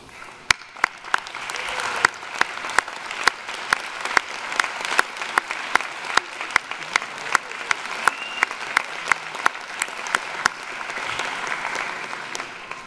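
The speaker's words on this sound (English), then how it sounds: "join me in a round of applause for those who have supported you each and every step" Sustained applause fills the hall at a USC Viterbi School of Engineering PhD graduation ceremony, a steady wash of many hands with sharp individual claps standing out throughout.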